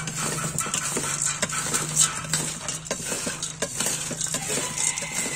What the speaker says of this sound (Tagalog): Tapos haluin natin ito hanggat talagang halo-halo na